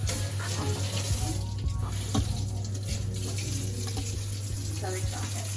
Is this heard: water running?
yes